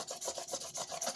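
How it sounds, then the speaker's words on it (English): Hand sanding along the edges of a fragile reproduction side scoop for a 1965 Mustang gives a quick, rhythmic rasping, several short strokes in a row, faint and close. "I'm sanding the edges while I'm talking"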